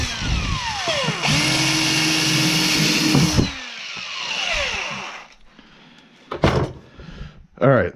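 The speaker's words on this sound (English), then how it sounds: "we've drilled all 4 holes, 1/4 inch" A power drill boring quarter-inch holes for a fishfinder install on a Pelican kayak, sounding as a loud sustained whine that cuts off, followed by scattered handling knocks and clatter.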